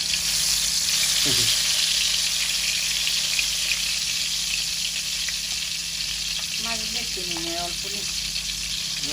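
Hilsa fish frying in hot oil, a steady loud sizzle running throughout with faint voices and brief clinks underneath.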